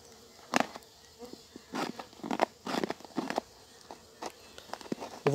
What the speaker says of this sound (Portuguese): Tô apoiando aqui na minha barriga porque as abelhas tá mordendo muito.